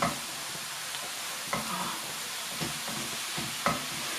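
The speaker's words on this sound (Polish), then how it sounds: "Na małym ogniu podsmażamy, tak dusimy." Mushrooms fry on low heat in a pan, giving a steady soft sizzle throughout, broken by a few light stirring scrapes, heard up close with no talking.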